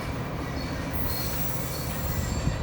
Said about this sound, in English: Some kind of record-breaking train.